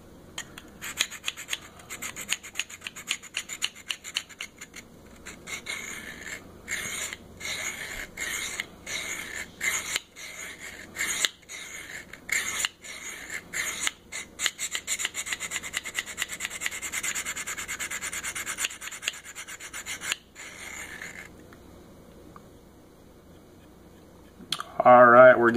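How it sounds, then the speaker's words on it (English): Knife blade being ground on a Work Sharp Field Sharpener, rapid rhythmic rasping strokes in bursts with brief pauses, then a louder scrape at the end, with someone talking quietly at times. "We'll go ahead and grind off this side here."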